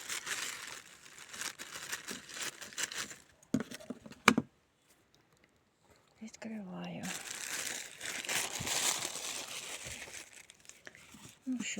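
Plastic packaging around flower bulbs crinkles and crackles loudly up close as it is opened, in bursts with a short quiet gap, while a person whispers and talks nearby.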